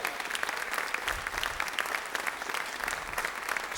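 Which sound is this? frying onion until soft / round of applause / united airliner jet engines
round of applause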